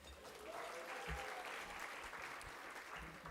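An audience applauds steadily at an afternoon speaking event, a dense, even clatter of clapping hands filling the room throughout.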